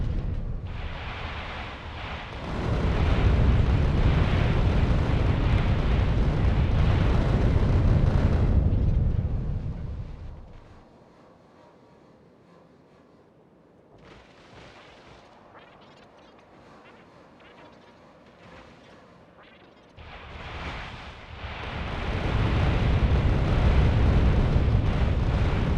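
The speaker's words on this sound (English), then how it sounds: "Well, I can sling a lot more missiles, that's for sure." Missile explosions in Factorio, a loud roaring blast that swells and holds for several seconds, falls away to a quieter rumble, then surges into a second long booming eruption.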